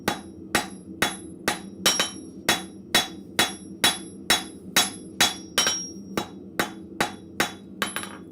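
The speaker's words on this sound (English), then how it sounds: "so I'm going to do a quick taper on him" A blacksmith hammers a quick taper on hot metal at the forge, about seventeen sharp, ringing strikes in a steady, even rhythm, loud and close with nothing else heard.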